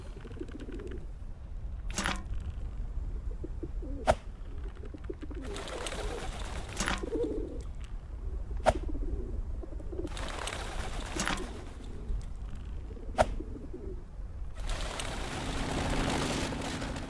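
Pigeons coo repeatedly in the Whateverland video game, a soft low warbling that returns in bursts against steady ambient background noise, broken by a few sharp clicks.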